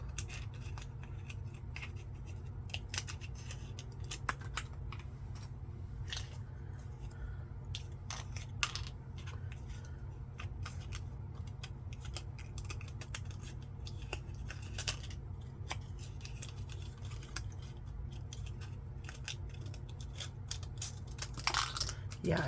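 Scissors snip paper to cut out a piece for Gelli plate stamps, with quiet repeated crisp cuts in an irregular rhythm over a steady low background hum, close by and soft.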